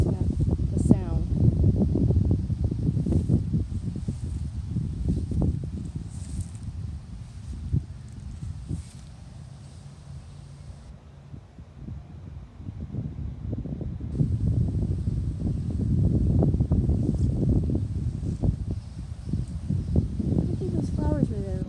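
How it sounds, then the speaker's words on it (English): Wind buffets the microphone outdoors in a cemetery, a steady low rumble rising and falling through the whole stretch, easing for a moment midway before gusting back up. "It's pretty windy. I hope that's not really messing up the sound."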